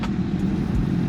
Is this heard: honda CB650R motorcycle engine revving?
yes